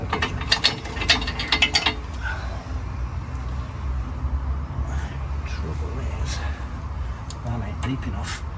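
Bolts being tightened on a tow bar bike rack: a quick burst of ratchet clicks at first, then lower mechanical grinding and scattered clicks, with a person talking nearby.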